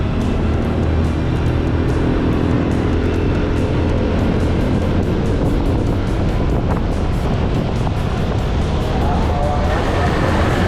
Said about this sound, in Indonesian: sekarang saatnya kita coba dulu si motor Beat